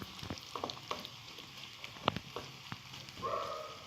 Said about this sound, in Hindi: हमने प्याज को थोड़ा सा फ्राई करना है, लाइट गोल्डन